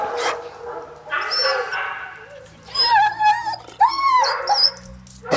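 A hunting dog named Bunker whimpers and yips close by in a few high, wavering whines with short barky bursts between them, over a faint low background hum.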